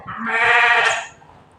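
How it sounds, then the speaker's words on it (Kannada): A single drawn-out sheep bleat, loud and close, wavering for about a second before fading, with soft background thumps. "ನೋಡಿ ನಮ್ಮ ಕುರಿ ಬೇರೆ ಬಡ್ಕೋತಾ ಇದೆ ಆಚೆ"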